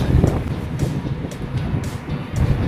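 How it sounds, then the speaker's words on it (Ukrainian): Loud, rumbling wind buffeting a microphone in uneven gusts while cycling, with low roaring bursts throughout and no speech. "Трішки вітер, правда, в лице віє"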